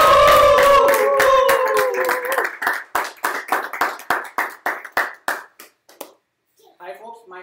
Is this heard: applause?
yes